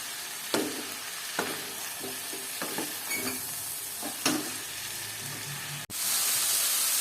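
Small prawns cooking with salt, turmeric, cumin and chilli powder in a pan, a soft continuous sizzle broken by a few scraping knocks of the stirring spoon, then a sudden cut and a brighter, louder hiss near the end.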